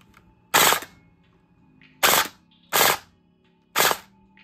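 An airsoft AEG rifle with a stock spring, running on batteries, fires four short, loud bursts spaced about a second apart, each a sharp rattling buzz with quiet gaps between.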